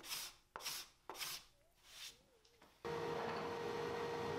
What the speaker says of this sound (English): I used a card scraper here to help clean up the excess epoxy